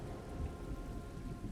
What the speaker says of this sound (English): Why did you come out into the rain to go downstairs?